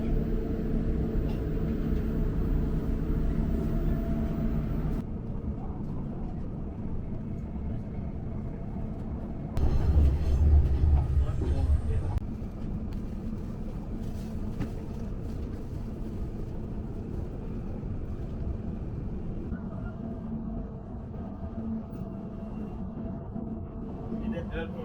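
A Riyadh metro train running above ground toward the airport gives a steady rumbling ride noise, briefly louder and rougher partway through, with a voice talking over it.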